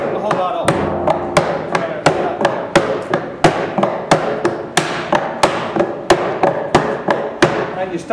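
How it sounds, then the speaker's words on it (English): Hammer and driver tapping wooden cask hoops back down during barrel making in Ireland, about twenty sharp, close, evenly paced metallic-wooden strikes in a steady rhythm with no talk. "when you then get your driver and your hammer again, and you just tap the whole lot back down again"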